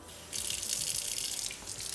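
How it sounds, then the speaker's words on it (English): A tap runs warm water into a sink for handwashing, starting suddenly after a quiet moment. A steady, soft hiss of flowing water follows, close by and with no voices. "I'm going to wet my hands and get a little soap on them"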